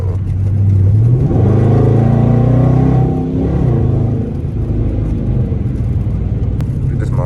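A Dodge Charger R/T with a loosely hung, weakly bolted exhaust pulls hard, its engine note rising in a loud, close rumbling surge for a few seconds before easing back to a steady drone.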